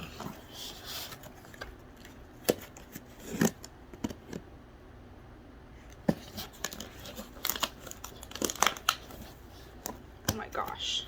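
A cardboard box of trading cards is being cut and torn open: irregular close scratching, ripping and crinkling bursts, with a person talking intermittently in between.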